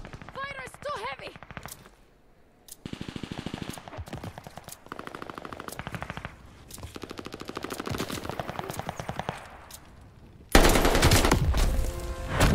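Heavy gunfire in Call of Duty Vanguard, with long bursts of rapid automatic fire in rattling volleys that grow louder and denser toward the end, with scattered voices mixed in.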